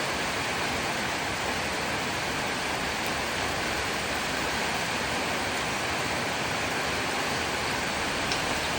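Heavy rain driven by strong wind in the cold season roars steadily and close, a thick unbroken wash of falling water with no voices.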